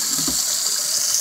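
Warm water runs steadily from a household faucet over a sink during a handwashing experiment, a continuous broadband hiss with a faint low thud near the start, no voices.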